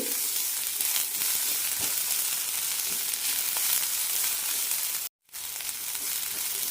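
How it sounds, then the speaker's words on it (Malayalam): Chopped onions frying in a pan for a vegetable-free kurma, a steady close sizzle that stays constant except for a brief cut to silence near the end. "അരിഞ്ഞു വെച്ച സവാള ഇടാം സവാള ചെറുതായി വഴന്ന് കിട്ടിയാൽ മതി"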